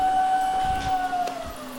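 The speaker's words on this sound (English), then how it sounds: "What is that siren?" A siren sounds as a steady high wailing tone held near one pitch, moderately loud with a dip in the middle, over a low murmuring background.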